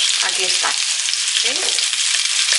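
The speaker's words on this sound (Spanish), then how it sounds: "Ahora le voy a poner los ajos," Garlic sizzles and fries in a pan with meat, a loud, dense crackle held steady throughout, with a brief spoken phrase over the top.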